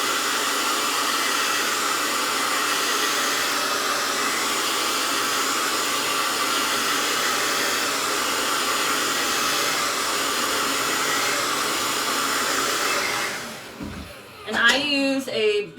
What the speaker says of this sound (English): I usually just blow dry it straight like this, straight like that, and then I'll round brush it